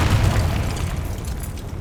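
A Confringo blast spell explodes in the Hogwarts Legacy video game, a deep, booming burst that rolls on for nearly two seconds with heavy low rumble and no speech over it.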